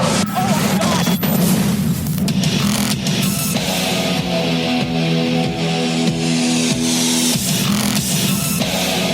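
A UFO attack on New York in a dramatized scene, heavy explosions and gunfire booming continuously and loudly over a dense roar, with sustained tonal drones building partway through.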